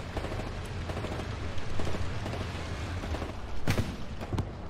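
Rapid gunfire and heavy blasts from a tank battle in the WWII shooter Hell Let Loose, a continuous clattering barrage with a sharp louder explosion near the end.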